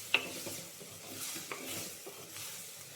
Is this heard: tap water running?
no